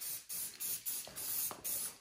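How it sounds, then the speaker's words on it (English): A spray paint can hisses in five short, even bursts with brief gaps between them as paint is sprayed onto a cut-out rock wall piece for a tabletop wargaming submarine table; the sound is quiet and close. "We know the spray paint is gonna eat it up a little bit, but that's kind of the look we're going for."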